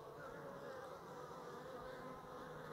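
Honey bees buzz steadily at a hive during hive-entrance work, a dense continuous drone of many wings, close and even, with no voices over it.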